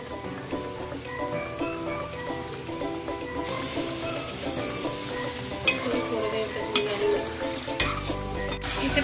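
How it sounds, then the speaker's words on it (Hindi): Chicken and onions fry in hot oil for a ghee roast, a steady close sizzle with scraping stir strokes and clinks throughout, no talking. "तेल हमारा गरम हो चुका है, इसमें डालेंगे प्याज, प्याज को थोड़ी देर तक चलाएंगे। अब इसमें डालेंगे चिकन,"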